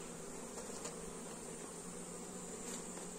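Bees buzzing around a cardboard swarm trap in a forest that once held a wasp nest, a continuous faint droning hum with no breaks and no speech.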